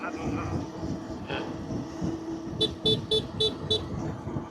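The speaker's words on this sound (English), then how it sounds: "You're scaring them by honking?" A car horn honks five quick times in a steady row on a road outside Saigon, loud and close, over engine rumble and background voices.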